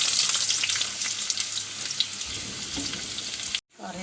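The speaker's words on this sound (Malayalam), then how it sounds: "എണ്ണ കാഞ്ഞു ഉള്ളി ഇടണം" Onions sizzle and crackle briskly in hot oil for a fish curry tempering, a close, steady frying hiss with small pops and stirring, cutting off abruptly near the end.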